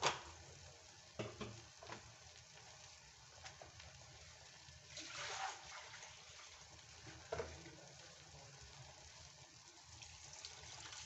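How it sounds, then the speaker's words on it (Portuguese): Water runs into a jar that held garlic in a home kitchen, a faint, steady trickle with a few brief splashes and clinks, no talking. "Agora eu peguei o pote que tava o alho, ó, e vou colocar aqui com água, pra poder aproveitar mais esse alho."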